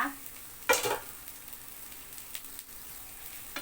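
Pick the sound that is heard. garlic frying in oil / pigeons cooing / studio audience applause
garlic frying in oil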